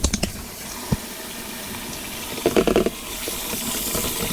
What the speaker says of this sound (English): You just put in cold water, turn it off